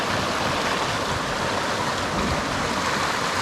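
River water near Hot Springs, North Carolina rushes over shallow rapids in a steady, loud, broadband hiss and gurgle with no talk.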